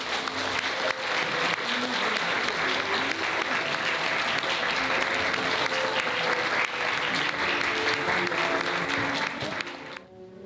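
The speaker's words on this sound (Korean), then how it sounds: "반지가 들어갈 때 여러분 사랑의 박수를 부탁드릴게요" Wedding guests, a large crowd, applaud steadily and loudly for about ten seconds during the ring exchange at a wedding ceremony in the Champagne Hall of the Novotel Gangnam, the clapping cutting off abruptly at the end.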